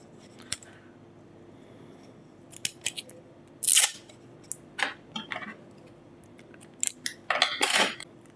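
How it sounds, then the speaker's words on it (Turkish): Tape pulled and pressed onto a laptop motherboard during a southbridge chip replacement, giving sharp crinkling rips and short sticky tearing bursts scattered across a quiet room, with no talk. "Şimdi şu kısım çabuk eriyecek kısımlara da bir bant atalım."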